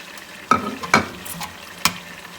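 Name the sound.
mutton being roasted in a pot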